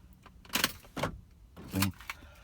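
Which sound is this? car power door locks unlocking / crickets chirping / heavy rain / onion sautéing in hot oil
car power door locks unlocking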